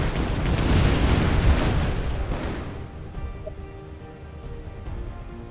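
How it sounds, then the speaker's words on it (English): Fireworks weapon bursting in the artillery game ShellShock Live, a loud rumbling blast that swells over the first two seconds, then fades into a lighter crackling tail with faint scattered pops and game music. "I guess fireworks."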